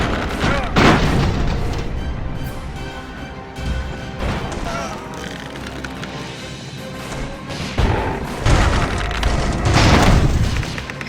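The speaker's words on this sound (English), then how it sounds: "They're just like chucking grenades." Grenades burst in the steampunk airship combat game Airships: Conquer the Skies, with several booming explosions at irregular intervals, loud and close, and a player talking between them.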